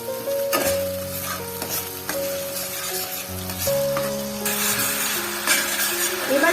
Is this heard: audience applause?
no